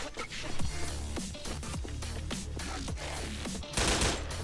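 Rapid bursts of automatic gunfire in the online shooter Wolfteam, sharp repeated cracks crowding together in a dense volley with a louder burst at the close, no voices.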